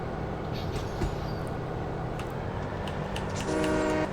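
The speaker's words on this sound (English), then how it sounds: "Play with the horn a little bit." A train horn sounding in Farming Simulator 17 on the Pine Cove map, a steady tonal honk held over constant rumbling engine and rail noise, swelling slightly louder toward the end.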